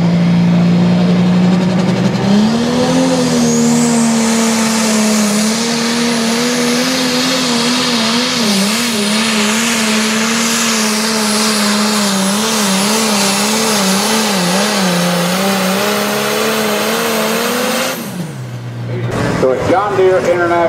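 An outlaw tractor pull in Whitewright: a pulling tractor's engine roars loud and sustained for about eighteen seconds, pitch wavering as it strains down the track, then cuts off abruptly, with an announcer talking over it.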